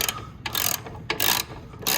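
A ratchet wrench clicks in three short bursts while tightening a rear suspension shackle bolt on a Jeep XJ rear axle, close and clear with brief pauses between strokes.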